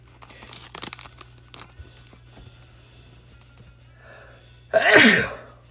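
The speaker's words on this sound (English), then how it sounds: "Oh, man, I gotta sneeze." A single loud sneeze bursts out near the end, after quiet moments of faint rustling and handling noises.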